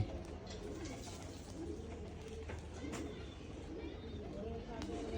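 Pigeons coo at a rooftop sale of betting pigeons, a steady low cooing under constant background noise while people talk nearby.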